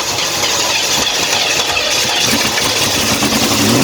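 Corvette engine cranking and catching, then running rough and revving in a dense, noisy roar that stays loud throughout and rises slightly near the end.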